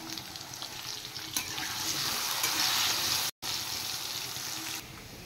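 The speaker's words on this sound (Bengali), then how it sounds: "এবার আমি তেল গরম করে নিয়েছি, একটু আলু ফ্রাই করে নেব নুন আর হলুদ দিয়ে।" Potatoes frying in hot oil with salt and turmeric, a steady bright sizzle that swells slightly and carries on with a momentary cut, faint and close with no voices.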